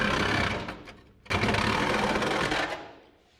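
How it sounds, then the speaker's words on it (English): A Sawzall reciprocating saw cuts through the body of a 1967 Toyota pickup, a loud, dense, buzzing rasp that pauses once briefly and then resumes before trailing off. No one speaks. "Little cut with the sawzall."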